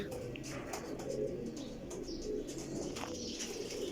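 Breeder pigeons coo softly and repeatedly close by in a loft, with some faint chirps and background rustle.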